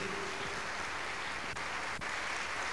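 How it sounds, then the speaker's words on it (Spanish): An audience welcomes a speaker at a religious talk with a soft, sustained patter of clapping, fairly distant and uniform, with a couple of sharper taps standing out. "Recibamos con un fuerte aplauso al señor don José González Torres"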